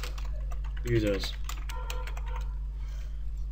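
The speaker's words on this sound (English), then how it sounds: "If you open a file and we type hello Spyrix" Rapid computer keyboard typing while text is entered into Notepad during a Spyrix Personal Monitor demonstration, a short burst of light clicks beside a brief spoken word over a steady low electrical hum.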